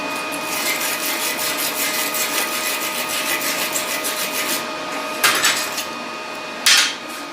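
A Parkside PMSG200 welder spot-welds thin sheet metal, a steady crackling buzz of arcing close by, broken by two sharper bursts near the end.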